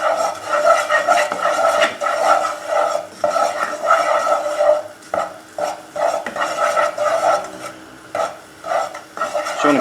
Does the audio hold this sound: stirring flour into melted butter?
yes